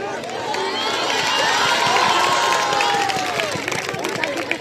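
Crowd noise at the 54th winter sports competition on the Dhaka Residential Model College campus, Mohammadpur zone: a steady, dense wash of cheering and clapping with excited voices running through all five seconds.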